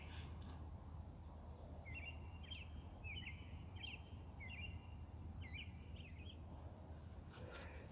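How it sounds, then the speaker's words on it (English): Small birds chirp far off in an outdoor campsite, a series of about six short, faint calls across several seconds over steady low wind and ambient noise. "Birds chirping off in the distance."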